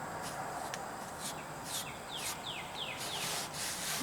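Rubbing strokes scrape excess wood filler off the patched holes of a wooden box blind, a steady abrasive rasp with repeated short swipes, close and fairly loud, with birds or insects chirping faintly outside.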